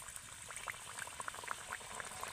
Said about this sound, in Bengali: দিয়ে এবার তেলের মধ্যে ছেড়ে দিতে হবে।